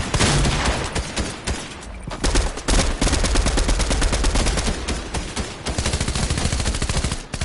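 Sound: gunfire in a PS4 shooter video game

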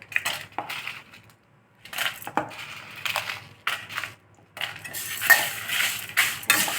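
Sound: dry red chillies added to a pan for roasting

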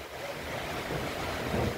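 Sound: heavy rain with strong wind

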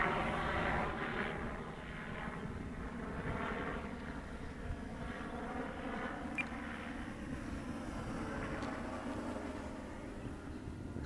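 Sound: FMS 1450mm P-51 RC plane on full throttle pass

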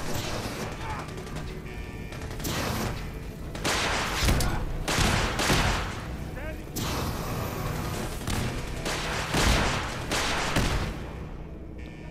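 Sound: rocket launcher firing in the video game Fallout 4

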